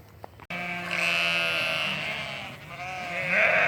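Sheep, ewes with lambs being moved to new pasture at a wood's edge, bleat repeatedly in overlapping calls, fairly near and clear, with no talking over them.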